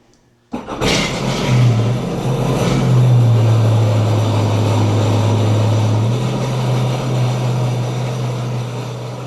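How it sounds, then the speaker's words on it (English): A Sea-Doo Spark jet ski engine starts abruptly and then runs at a steady close idle in reverse with the trim raised, a loud buzzing drone that shifts pitch slightly partway through. "start the jet ski, put the trim all the way up, go into reverse"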